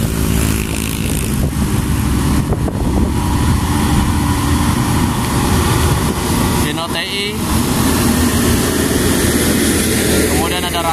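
A Hino 500 truck climbs a hill with a loud, steady engine drone close by that runs the whole time, and brief rattles and bursts cut through it partway.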